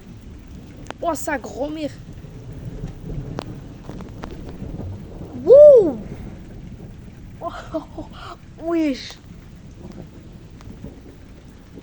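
A thunderstorm with steady rain and low rumbling thunder fills the background, while a man nearby gives several loud, excited exclamations over it.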